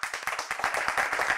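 An audience claps in applause, with a dense run of quick, sharp hand claps that is steady and fairly close, short and continuous with no voices.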